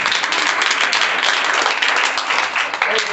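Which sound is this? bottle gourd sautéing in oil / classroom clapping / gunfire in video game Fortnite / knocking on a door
classroom clapping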